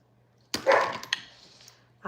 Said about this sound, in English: I hear Cosmo barking.